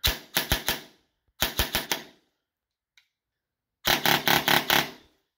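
Three sharp bursts of rapid shots from a gel blaster with a suppressor fitted, each a quick cracking string of four or five shots, loud and close, separated by silence with one faint click between.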